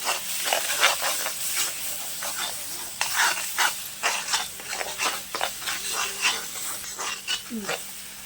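Shallots and ginger-garlic paste sizzle and fry in a pan while being stirred for a chicken gravy, a steady hiss broken by repeated scraping stir strokes, close up.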